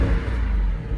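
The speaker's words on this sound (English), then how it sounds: "What they're doing is they're listening to the sound of those engines roaring." A 2014 Jeep SRT engine roars with a deep, steady low rumble, loud and close, holding a sustained drone for about a second with no speech over it.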